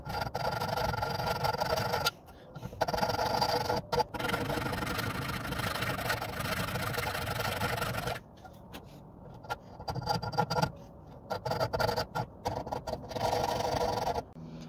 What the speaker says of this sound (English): we're just gonna start filing everything off